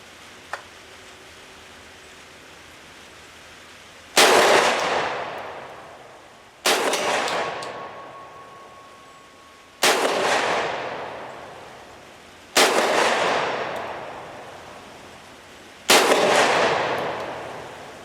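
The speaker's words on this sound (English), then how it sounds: "I'm just going to test fire this. We're going to start off with 5 slugs." Five loud shotgun slug blasts from a Centurian BP-12 shotgun on test fire, evenly spaced about three seconds apart, each a sharp crack with a ringing decay, preceded by a faint click.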